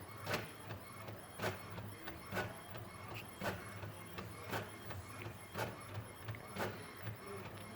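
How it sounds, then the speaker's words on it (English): An Epson WorkForce 3540 printer mechanism pulls paper through, whirring and clicking in a steady repeating rhythm, regular sharp ticks over a low motor hum, close and moderately quiet. "that little mechanism in the back pulls the paper in and out."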